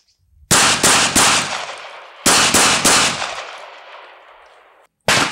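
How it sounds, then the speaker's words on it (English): Glock 19 compact 9mm pistol fired in rapid triple taps at 15 feet on a range: two tight bursts of three loud, sharp reports, each burst ringing out before decaying, then a third burst beginning at the end. "This is a Glock 19 at 15 feet, triple taps."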